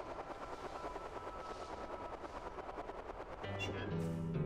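In the video game LostWinds, a faint helicopter-like sound gives a rapid, even chopping pulse that runs steadily, then a brighter tonal layer of game sound joins near the end.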